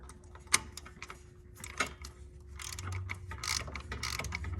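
A ratchet tightens a light bar bracket on a Polaris RZR 900 utility vehicle with sharp clicks and scattered metallic clatter, then a denser, rougher ratcheting toward the end, close to the listener.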